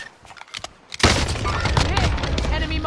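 Sudden burst of dense, loud rapid-fire gunshots in a first-person shooter video game, erupting after a quieter second of faint clicks and continuing as a sustained barrage.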